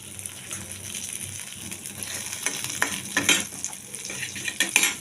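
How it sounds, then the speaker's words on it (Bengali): Black cumin seeds frying in hot oil at the side of a pan with fish, a continuous crackling sizzle broken by spoon scrapes and light clinks that grow busier toward the end. "এখন আমি তেলের সাইডে একটুখানি কালো জিরে দিয়ে দিচ্ছি।"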